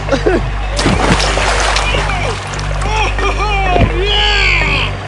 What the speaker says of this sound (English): I think I see the rapids. Oh, I definitely see the rapids.